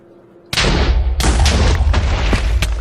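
A sudden loud blast of TNT in a Minecraft Skywars game, followed by a string of booming explosions and rumbling crashes in quick succession.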